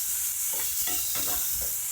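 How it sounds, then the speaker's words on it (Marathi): Chopped garlic, onion and green chilli sautéing in a hot pan for a bhindi (okra) tiffin dish, a steady close sizzle with several soft scraping stirs at an irregular pace. "मिरची, थोडं कापून टाकलेले बारीक चिरलेला लसूण टाकायचा आणि याला चांगलं परतून घ्यायचं।"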